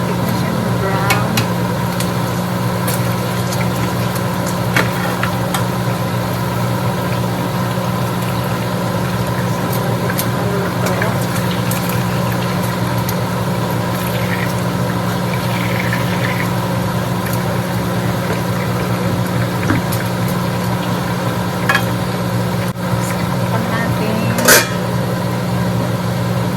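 Pork steak frying and browning in a pan with onions, a continuous low sizzle with occasional stirring clicks and scrapes, alongside a steady low hum.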